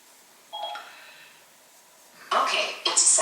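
Smartphone being set to a four-hour timer in a kitchen, giving a short tone near the start and then a few bright, close beeps or taps toward the end, with quiet stretches between them.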